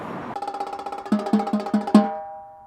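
Tenor drums play a bar of diddles with crossovers at tempo, a quick run of ringing pitched strokes that builds to a firmer final hit and then rings out. Close and clear, with no talking.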